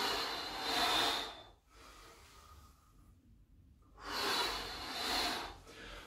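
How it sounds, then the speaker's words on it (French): Forceful exercise breathing during a bodyweight workout, a strong exhale followed by a quieter pause and then another loud breath, close to the microphone with no talk. "Je souffle vers le bas et j'inspire vers le haut."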